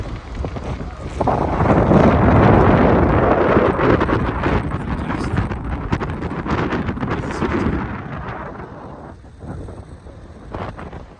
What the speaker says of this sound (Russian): Какой ветер здесь.